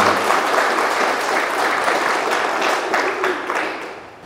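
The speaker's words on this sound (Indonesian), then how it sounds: "Ya, kita beri aplaus untuk Pak Ketua dan teman-teman." A crowd applauds a chairman and colleagues at a Sorong Regency government event on education funding, dense steady clapping filling about four seconds before easing off at the end.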